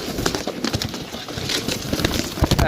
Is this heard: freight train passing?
no